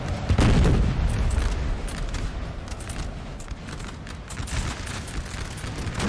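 Musket volleys from line infantry in the video game Napoleon Total War roll out as dense, overlapping crackles and booms, loudest at the start and continuing steadily as a thick wall of battle noise.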